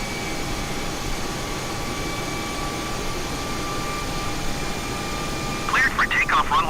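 The jet engines of an Airbus A320 on its takeoff roll at Frankfurt make a loud steady roar with whining tonal hums. A brief radio voice breaks in near the end.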